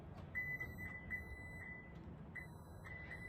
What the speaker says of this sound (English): So I just push the button and it beeps.